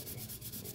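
Sandpaper held lightly by the fingers rubs across a plastic hardbody RC car shell with almost no pressure, giving a steady close scratchy hiss in quick strokes, alone without talk.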